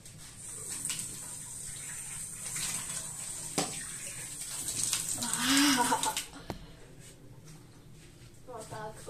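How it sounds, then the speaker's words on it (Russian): Tap water runs and splashes while a face is washed during makeup removal, a moderate wash of close running water with a brief surge near the middle, with a voice speaking around it. "Так, теперь мы моем лицо."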